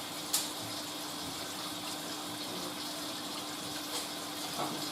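A washing machine fills with water for its second rinse, a faint steady hiss and gush of running water continuing throughout, with one soft knock near the start and no voices.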